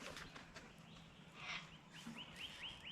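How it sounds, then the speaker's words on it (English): Several faint, high chirps repeat in quick succession, with birds calling softly near their nest against a quiet outdoor background. "And those birds have got a nest up there."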